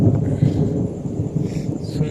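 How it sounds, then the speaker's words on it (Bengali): Rain pouring down during an evening outdoor game, a heavy, dense wash of noise with low rumbling, loud and close, with no talk over it. "এখন জল পড়ছে।"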